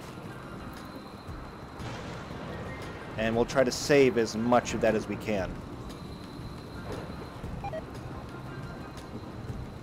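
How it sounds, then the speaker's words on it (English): RimWorld game weather, a steady hiss of rain under a person talking, with a rumbling thunder roll that swells for a couple of seconds in the middle before settling back into the rain. "It's raining outside, so I'm not too worried about it."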